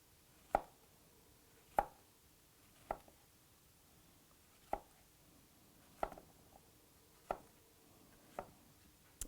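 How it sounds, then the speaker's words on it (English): A kitchen knife cuts zucchini into thick slices on a cutting board, seven or eight crisp taps spaced about a second apart, close and quiet, with no talk. "I'm going to cut them about 1 inch thick, the zucchini"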